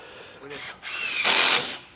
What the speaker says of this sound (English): It allows us to insert the screws on the side in an angle so that there'll be no visible screws on the top of the decking.